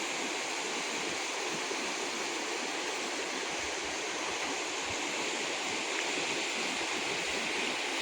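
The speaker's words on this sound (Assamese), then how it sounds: "এইফালে বৈ গৈছেগৈ নদীখন" Steady rushing water of a river in the hills flows without pause, a broad even hiss heard close by, with no voices.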